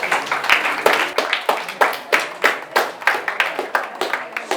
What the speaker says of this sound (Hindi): जिन्होंने हाथ उठाए हुए हैं उन बच्चों के लिए जोरदार तालियां बजाओ